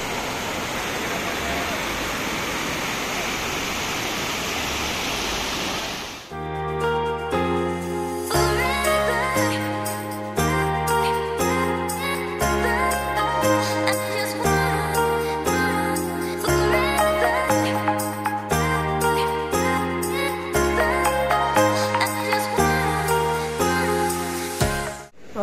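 The swollen Shivnath river at the Mahmara anicut in Durg, high after rain, rushes as a steady, broad roar of water for about six seconds. Music then takes over for the rest.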